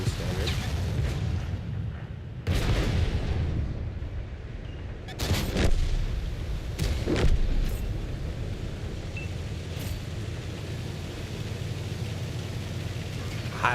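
Tank main gun firing standard shells in a video game, several heavy booming shots spaced a few seconds apart over continuous engine rumble and battle noise, with a voice talking quietly underneath.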